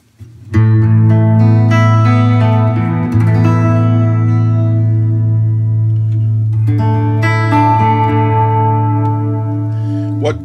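Clean electric guitar run through a tiny reverb pedal with no other effects, ringing chords sustaining in a lush ambient wash, a second strum midway blooming back into long reverb tails.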